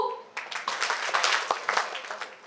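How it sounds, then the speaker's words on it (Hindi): An audience at a railway workplace Women's Day celebration claps together, a burst of mixed hand claps that swells and then tapers off, with faint voices underneath. "Make a clap for yourself 2।"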